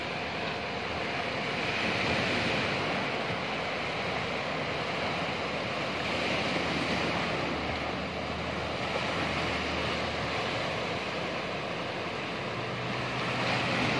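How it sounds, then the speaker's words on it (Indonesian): Continuous roar of ocean surf with wind at Pangandaran Beach, Indonesia, waves washing steadily without a break, no voices. "hanya ada Esa Windu yang akan segera mancal melintasi ombak di Pantai Pangandaran."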